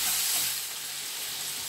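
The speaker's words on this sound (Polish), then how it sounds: "Indyk się smaży." Turkey frying in a pan with sweet red paprika, a close, continuous sizzling hiss with faint stirring, no voices.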